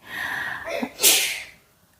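A single sharp sneeze bursts out after a brief intake of breath, close and loud, then fades to quiet.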